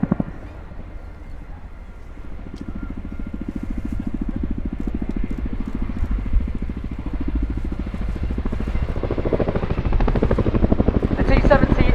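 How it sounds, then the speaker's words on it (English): An RAF Chinook helicopter performs display manoeuvres at an air show, its loud, steady twin-rotor thudding and engine roar filling the whole stretch and swelling slightly toward the end. "Now demonstrates the agility of the aircraft from left to right."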